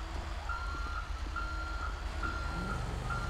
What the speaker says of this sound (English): Oh, no. This truck is so close.